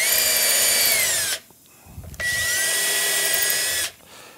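A power drill bores holes through Telecaster guitar parts in two close, loud bursts of high whirring, each about one and a half seconds, separated by a short pause with faint handling noise.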